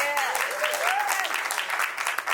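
A panel audience applauds a guest speaker, brisk continuous clapping from a crowd close by, with a faint voice rising briefly within it.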